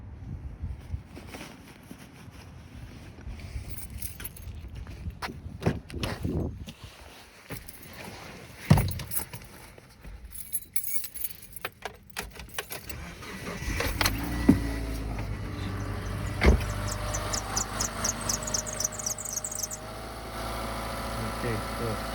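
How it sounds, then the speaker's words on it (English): A 2005 Subaru Forester starts up with a suspected worn alternator and AC belt, giving irregular clicks, scrapes and a squealing chirp over an uneven idle, with intermittent hands-on noise nearby. "So I'm gonna start the car now."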